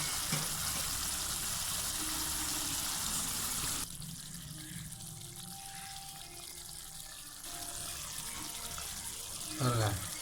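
Half a glass of water pours from close by into quail gravy simmering in a pan, a gushing splash that changes character midway, with a brief clink near the end.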